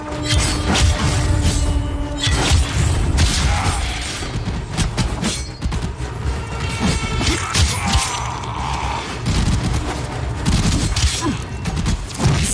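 Combat in the video game Warframe plays out with a dense, loud barrage of gunfire, crashes and mechanical clatter, including bursts that fit a bomb detonating amid continuous battle noise.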